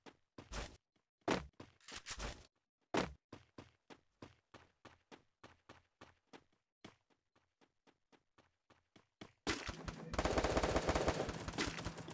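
Gunfire from an M16 rifle in a shooting video game, fired in sharp single shots and short bursts at a steady rhythm. The shots end in a dense, loud burst of continuous fire and noise.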